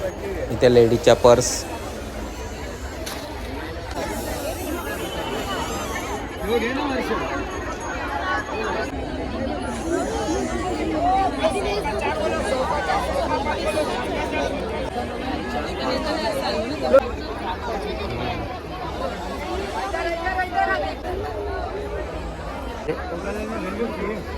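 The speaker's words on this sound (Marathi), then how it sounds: "आणि ही गर्दी बघा किती आहे" Dense crowd chatter fills a busy Friday street market in Panvel, a steady hubbub of many overlapping voices close around with no single sound standing out.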